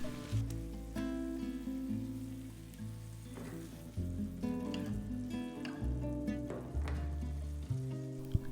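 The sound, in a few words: fried okra being mixed into sizzling masala in pan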